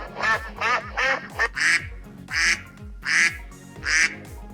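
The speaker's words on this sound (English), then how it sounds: "was a duck." A duck quacking loudly and close, a steady series of about seven or eight nasal quacks in a regular rhythm, alone with no talk.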